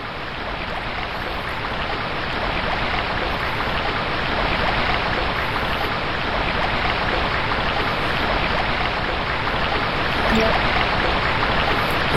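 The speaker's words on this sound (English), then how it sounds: "Loud waterfall." Loud, steady roar of rushing water from a video game waterfall, continuous and dense throughout with no pauses.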